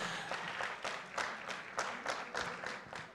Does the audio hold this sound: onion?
no